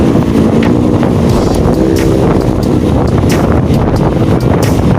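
Strong wind buffets the microphone over a boat engine's low rumble, a continuous gusty roar with no talking.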